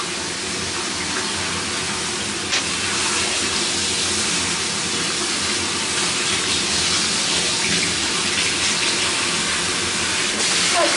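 Tap water runs steadily and loudly, close by, over dyed dreadlocks being rinsed, a continuous broadband rush with no talk.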